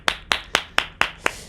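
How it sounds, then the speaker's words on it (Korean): A few sharp, evenly spaced claps for a top scorer on the national college entrance exam, seven crisp hand strikes at a steady brisk rhythm, close and clear against a quiet room. "박수, 박수!"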